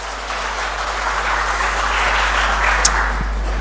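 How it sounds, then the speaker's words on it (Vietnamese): A church congregation at a Protestant service applauds in thanks to God, a steady, fairly loud wash of many hands clapping that holds evenly throughout, with a faint low hum underneath. "Hãy vỗ tay cảm tạ Đức Chúa Trời."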